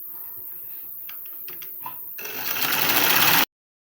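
Electric sewing machine stitching the shoulder seam of a jacket, a steady close whirring run of rapid stitches that starts softly with some clicks, then speeds up and grows louder before cutting off abruptly.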